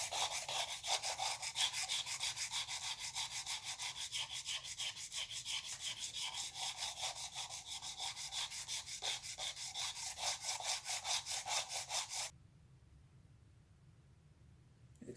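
Rhythmic back-and-forth scrubbing of 600 grit sandpaper on the cylinder head of a 2011 Subaru Outback engine, close and steady for about twelve seconds before stopping abruptly.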